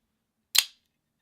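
A custom hand-ground folding knife flicked open by spinning its wheel, one sharp, loud metallic snap, close and alone, with a quick decay.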